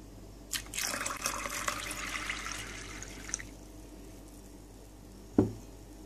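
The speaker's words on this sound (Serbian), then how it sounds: "Najpre soju treba preliti vodom i ostaviti preko noći da nabubri." Water pours for about two and a half seconds over dry soybeans set to soak for homemade tofu, followed by quiet and one sharp clunk near the end.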